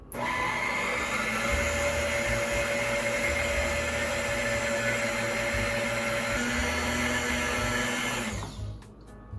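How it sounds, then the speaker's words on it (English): An electric stand mixer whirs at slow speed through cheesecake batter with sour cream, a steady motor hum that runs almost the whole time before cutting off near the end. "I start to run the mixer a bit slower"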